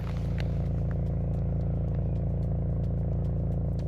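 A 2018 VW Golf GTE plug-in hybrid with a 1.4 TSI engine idles with a steady low exhaust drone and a faint rhythmic burble, close by, with small ticks and clicks on top.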